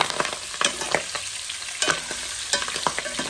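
Potatoes fry in hot oil, giving a crackling sizzle broken by scattered sharp pops and stirring scrapes, close and with no talk.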